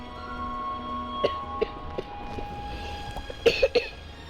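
Several short coughs in a Roblox game break out over a quiet background, a couple of single coughs first, then a quick cluster of three near the end.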